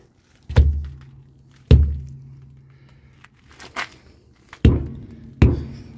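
A truck tire is struck by hand during a Class 3 pre-trip inspection to check its pressure, giving five dull, close thumps spaced unevenly, with quiet gaps between them and no talking.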